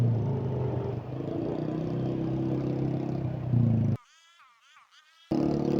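Noisy motorcycle riding on the road ahead, a loud, rumbling engine clatter heard from a moving motorbike, cut off briefly near the end before returning.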